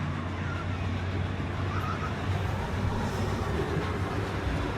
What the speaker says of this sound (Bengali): নিচে ট্রেন চলতেছে আওয়াজ শুনতেছি।